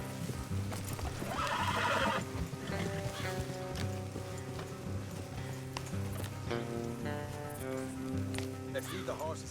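Horses in the video game Red Dead Redemption 2 clip-clop steadily while one neighs, set against a continuous game music bed.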